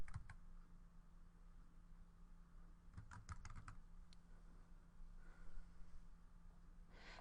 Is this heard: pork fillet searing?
no